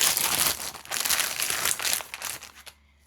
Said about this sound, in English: she's just in a regular crinkly plastic bag after that